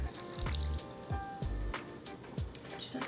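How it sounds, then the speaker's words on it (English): Soda water is poured into a Singapore Sling cocktail, heard as close, gentle splashes and fizzy dribbles with a few soft knocks of glass or ice. "Still need a little bit more soda water."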